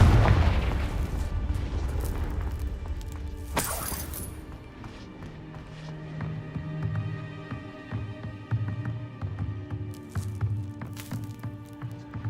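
Confringo blasting spell going off in a Hogwarts video game: a loud, booming explosion bursts out early, then fades into a lingering rumble and ringing magical tones.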